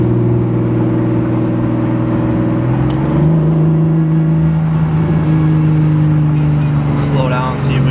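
A single turbo BMW 135i pulls hard while driving, a loud droning engine tone climbing steadily in pitch with a shift partway through, then a brief higher whistle and chirps near the end, heard from inside the car.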